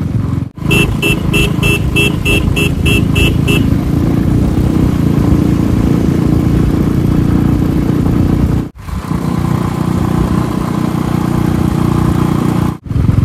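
A motorcycle on the highway from Kolkata to Siliguri, ridden in winter, produces a loud continuous engine drone with heavy wind rush and a few brief dropouts, and no one speaks.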